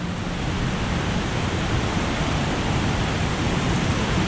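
Haritheerthakkara waterfall, deep in hilly forest, roars with rushing water, a dense, unbroken wash of noise, steady and fairly loud with no voices.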